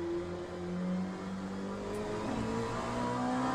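An Oreca 07 LMP2 race car with reduced power in Le Mans Ultimate at Portimao accelerates out of a turn. The engine drones steadily and its pitch climbs slowly, with no talking.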